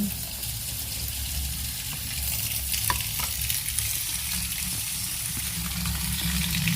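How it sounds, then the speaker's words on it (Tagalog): Taro leaves being washed in water for laing, a steady rushing, splashing wash of water that continues evenly and close by throughout, with no talking. "Ayan, hugasan po natin."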